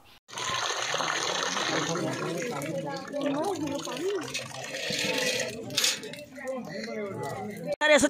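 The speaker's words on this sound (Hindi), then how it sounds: "आइए देखते हैं बोरवेल से कैसे निकल रहा है पानी" Water gushing from a borewell at a site where groundwater is contaminated, a steady rushing flow running throughout with clinks and splashes mixed in.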